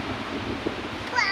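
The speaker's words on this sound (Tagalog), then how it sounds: "Malaki po yung alon na malaki." Large sea waves after a typhoon, a loud continuous wash of surf mixed with gusting wind noise, with a voice talking over it.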